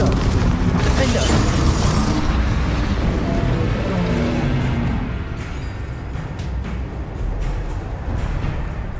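The Confringo blasting spell in Hogwarts Legacy bursts with a loud, deep rumbling explosion that swells and slowly fades, followed by a few sharper impact cracks amid game sounds.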